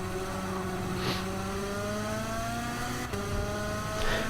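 A race car engine on the Eiger Nordwand track holds a steady, rising drone through the gears, with a brief break in the pitch partway through as it shifts, heard alone without talk.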